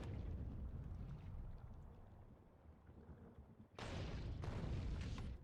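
Explosions in the Factorio video game with the Krastorio 2 mod: a low, steady rumble gives way to two loud, broad bursts of blast noise in quick succession, with no talking.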